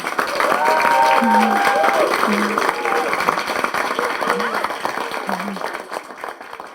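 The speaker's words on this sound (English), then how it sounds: "please give them a huge round of applause" Wedding guests at a handfasting ceremony applaud the couple with a steady, full round of clapping and cheering, accompanied by soft music or voices throughout.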